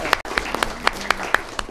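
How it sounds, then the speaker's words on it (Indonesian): Scattered applause at an Idul Fitri gathering, with individual sharp claps spaced irregularly over a low room murmur, sounding thin and moderately distant. "Ya, tepuk tangan untuk beliau."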